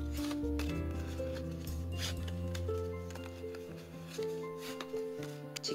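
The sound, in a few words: folding A4 paper for origami hexagonal box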